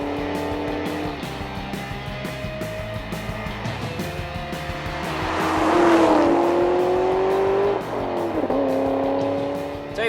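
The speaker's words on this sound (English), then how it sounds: "I really enjoy about this is the whine of the supercharger" Chip Foose-designed Mustang GT running with a supercharger, a rising, sustained mechanical whine over engine drone as the car accelerates, swelling loudly midway, dipping and building again, heard from inside the car.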